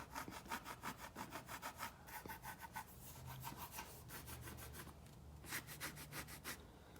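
A plastic bicycle saddle base, from an EC90 seat, rubs and creaks in a quick, steady rhythm of faint scraping strokes, close up and without talk.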